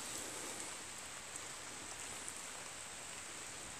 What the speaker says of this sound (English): Lovely rainy day out here.